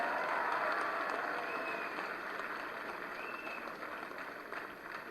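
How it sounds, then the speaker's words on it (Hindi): Steady applause from a crowd at a felicitation ceremony honouring Paris Olympics athletes, continuous and fairly even throughout, gradually easing slightly in loudness. "तालियां बजती रहें"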